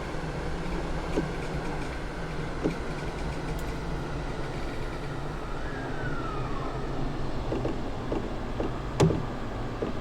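A train in the JR East Train Simulator video game rumbles past steadily in the open, a low continuous roar with faint wheel noise and a couple of sharp metallic clanks near the end.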